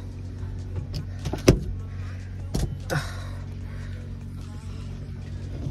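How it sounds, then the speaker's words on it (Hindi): Power windows on a Maruti Suzuki Dzire sliding down inside the car on a hot day, a faint motor whir under steady cabin hum with a few brief clicks and knocks. "स्टार्ट कर कांच खोलते हैं"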